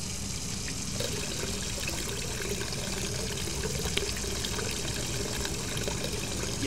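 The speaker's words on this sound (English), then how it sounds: "Can we fill up this jug with water?" Tap water pours steadily into a jug inside the video game Hello Neighbor, a constant rushing splash that fills the whole stretch at moderate level with no talk over it.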